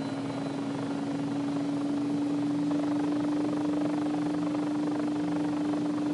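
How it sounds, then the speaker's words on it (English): A helicopter engine starts up in the Take On Helicopters simulator, a steady turbine whine with a constant tonal hum beneath a broad rushing noise, with no voices. "Holding starter for engine one."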